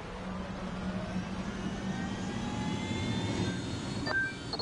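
An aircraft engine drones steadily while piloting in the video game Ghost Recon Wildlands, a continuous even hum with a slight swell near the end and no voices.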